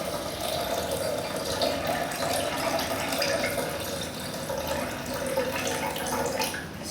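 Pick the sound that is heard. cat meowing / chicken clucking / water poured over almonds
water poured over almonds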